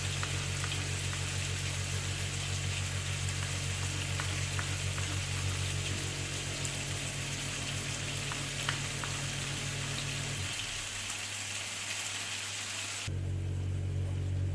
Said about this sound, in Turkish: Evet, tüm mantarları ilave ettim. Bir güzel karıştırıyorum.